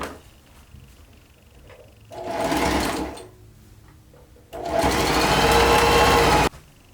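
A sewing machine runs in two bursts while stitching a seam for a garment: a loud whirring run of about a second, a pause, then a longer, steady, close-up burst of nearly two seconds before it stops.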